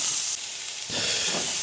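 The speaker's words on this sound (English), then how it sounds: "The prawns are stir frying." Prawns stir-frying in a hot pan give a steady, close sizzle that swells louder partway through and keeps a constant hiss to the end.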